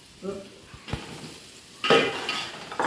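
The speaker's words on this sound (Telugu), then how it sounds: "ఇప్పుడు బూడిద గుమ్మడికాయ ముక్కలు వేస్తున్నాం" Ash gourd pieces dropped into frying masala with tomato in a pot, a few metallic clinks and a thump followed by a sudden loud burst of sizzling that carries on to the end.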